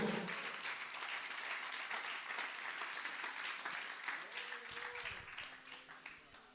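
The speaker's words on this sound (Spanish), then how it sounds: "Dale un fuerte aplauso a la gloria de Dios" A church congregation breaks into strong applause to the glory of God, a broad steady clapping that fills the hall and gradually fades toward the end, with faint voices and a sustained tone emerging underneath.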